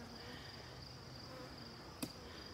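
Constant low buzzing of honeybees in a hive, close and steady, many bees humming together, with a small knock near the end.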